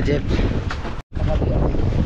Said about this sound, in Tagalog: Medyo lumakas ang hangin ngayon.